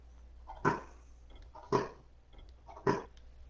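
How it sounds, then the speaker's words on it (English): A dog retches in three rhythmic, gagging heaves about a second apart, close and fairly faint against a low background hum, in a video game. "Dog puking."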